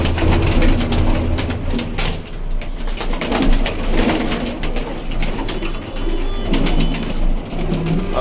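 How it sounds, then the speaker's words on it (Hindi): Male high flyer pigeons coo steadily at close range in a home loft, several birds overlapping in soft, repeated throaty calls with no talking. "ये मेल कबूतर है सारे"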